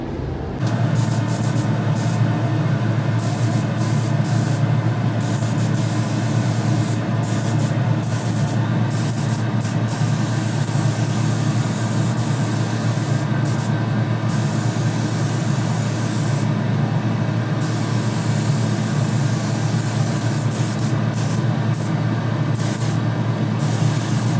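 A spray gun coats a car body panel in a body shop, a continuous hissing spray with a steady low compressor hum underneath and regular brief pauses between passes, close and unbroken by talk.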